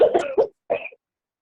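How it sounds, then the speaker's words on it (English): A close cough in two quick bursts on a Zoom call, followed by silence. "Just got somebody coughing."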